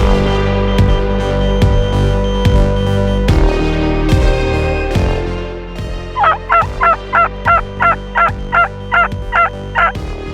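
Wild turkeys in British Columbia, a group of strutting toms with hens, gobble in the open; repeated rattling gobbles are followed by a steady series of about ten loud, evenly spaced calls.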